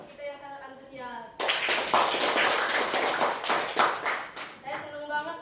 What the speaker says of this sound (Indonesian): Beri tepuk tangan untuk kita yang sangat antusias.